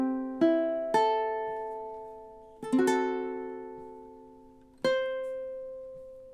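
Ukulele plays measures 15 and 16 of a song, with four plucked chords struck in time, each ringing out and decaying before the next, close and clear with no voices.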